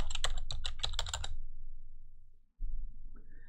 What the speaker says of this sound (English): I'm going to type PowerShell.